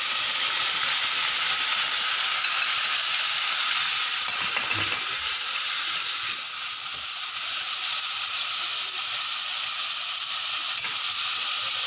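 Onion fries in hot oil in a pan for moong daal, a loud, dense, continuous sizzle and hiss with occasional stirring scrapes, close up and without talk.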